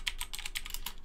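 Quick bursts of keystrokes tap on a computer keyboard as a Linux command is entered, close and moderately quiet, with no talking.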